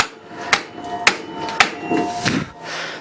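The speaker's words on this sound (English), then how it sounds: "Just hammer it back on and then back out." Hammer blows on a stuck part of a Honda Odyssey FL250 off-road buggy under restoration, three sharp evenly spaced metallic strikes about half a second apart, close up, followed by a softer scraping shuffle.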